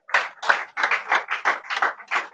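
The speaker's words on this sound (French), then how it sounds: "Je n'aime pas l'applaudissement là." A church congregation at a healing-of-inner-wounds meeting claps in about eight short, close, evenly spaced bursts, a rhythmic patter rather than a continuous roar, with no talking over it.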